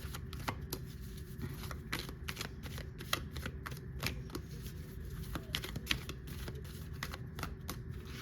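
Tarot cards are shuffled by hand in a quiet room, a dense run of crisp riffling flicks and soft slaps repeating close to the microphone at a quick, uneven rhythm.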